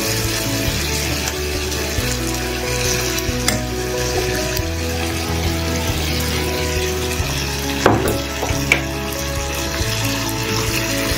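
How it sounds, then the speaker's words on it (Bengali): Ginger, garlic and onion paste fries in hot oil for a tilapia fish curry, a constant close sizzle broken by the scrape and clack of stirring, with no voices. "আর এটাকে ভালো করে কষিয়ে নেব।"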